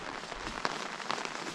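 Steady rain patters on a campsite during a canoe trip, a dense soft hiss of drops with a couple of sharper nearby taps, heard alone with no talking.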